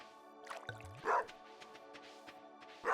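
A dog barks in the Stardew Valley video game, giving a few short yips over a steady background game tune, with one louder bark standing out near the middle.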